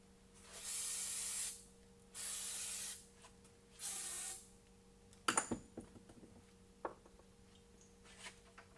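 An aerosol cleaner sprays onto a braided AN hose fitting in a workshop in three loud, steady hissing bursts about a second long each, then a few close clatters and handling clicks as the part is handled.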